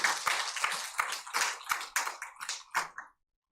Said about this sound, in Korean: 부활의 영광, 부활의 기쁨을 주시는 하나님께 영광의 박수 올리겠습니다.